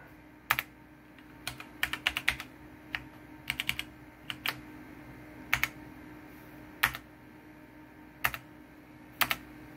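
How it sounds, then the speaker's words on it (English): Fingers type on a computer keyboard nearby in short, irregular bursts of crisp key clicks separated by quiet pauses. "Let me type that."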